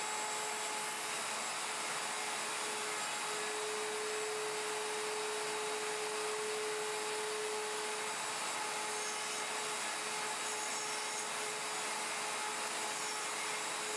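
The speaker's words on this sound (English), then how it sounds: "Lower the bit and start by climb routing clockwise without touching the guide pin on the guide to create a clean" A plunge router on a Leigh FMT Pro jig climb-routes a tenon, giving a continuous high-speed whine with a steady tonal hum that stays even and fairly close throughout, no voices.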